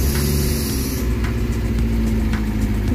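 Kia Pride car engine with rocker arm valve tapping, running loudly and steadily close by, a continuous idle hum with slight revving and faint ticking, no talk.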